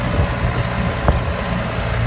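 A John Deere 5095 tractor engine runs steadily during a plowing trial on the Söke plain, a continuous low diesel rumble with a single brief knock partway through.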